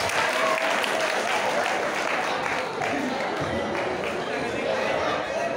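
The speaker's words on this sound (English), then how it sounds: "Big round of applause" An audience gives a big round of applause, loud continuous clapping from a full crowd with some chatter and cheering mixed in, sustained throughout.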